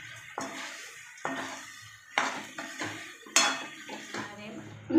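A utensil clanks and scrapes in a pan while veg Manchurian gravy ingredients are mixed, giving several separate metallic knocks with short pauses between them, close and clear.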